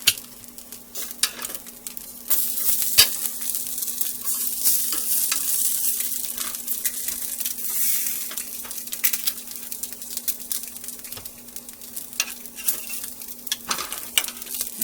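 Pork chops browning in a hot pan over a gas flame, sizzling steadily and loudly up close with scattered crackles and a few light utensil clinks, no talking.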